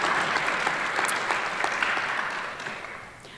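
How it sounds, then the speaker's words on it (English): Audience at a community connection night applauding a panelist, a steady wash of clapping that holds for about three seconds, then begins to thin toward the end. "give Jim a round of applause for coming"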